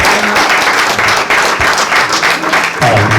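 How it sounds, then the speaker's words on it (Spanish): A church congregation gives loud, sustained applause that fills the sanctuary with dense clapping from start to finish, briefly dipping then swelling again. "Fuerte ofrenda de aplauso"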